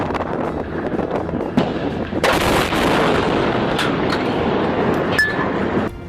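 A loud booming blast with a rushing roar that lingers, surrounded by sharp cracks and bangs like gunfire.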